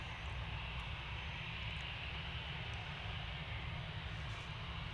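A Finnair airliner touches down at a morning airport, a faint, steady distant engine rumble and roar carrying without pause and without voices.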